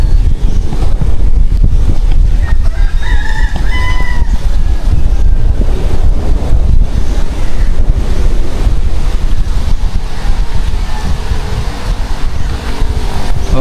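Strong wind buffets the microphone during a boat ride, a loud, continuous roar mixed with water and engine rumble, with a few faint tonal squeaks briefly rising above it.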